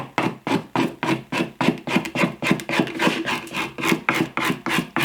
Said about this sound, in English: And just cut away at the excess with the edge of the file